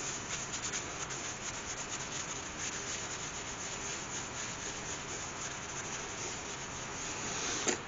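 Sand sealer is rubbed onto a spinning piece of iron red wood on a lathe, giving a continuous, even rubbing hiss with a steady hum underneath.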